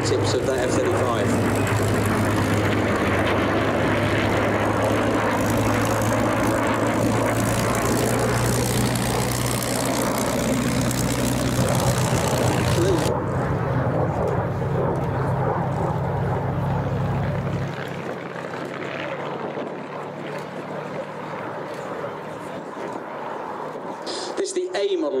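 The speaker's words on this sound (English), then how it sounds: "here comes our lovely formation, led by Cam in that P-47" A formation of propeller aircraft led by a P-47 flies past at an airshow, a loud steady engine roar under ongoing talk, then dropping away and thinning as the planes move off.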